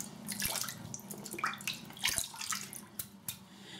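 A RazoRock shaving brush dipped into water, with close, quiet splashes, drips and wet sloshing in irregular bursts, alone without talk.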